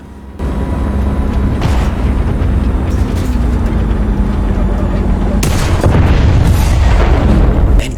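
Tank shell striking the track of a T-80 BVM in War Thunder, heavy booming gunfire and explosive impacts over a continuous loud rumble of battle, with sharp blasts near the start and in the last few seconds.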